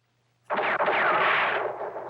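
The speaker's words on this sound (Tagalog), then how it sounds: "Putok ng baril yun, ah." A single loud gunshot cracks suddenly after near silence, followed by a long rumbling echo that slowly fades.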